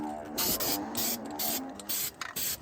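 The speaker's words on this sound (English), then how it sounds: "I sprayed all of the prepped surfaces with some rust encapsulator." Rust encapsulator sprayed from an aerosol can onto prepped surfaces of a Ford E-350/E-250 Econoline van body, a run of close hissing bursts broken by short pauses.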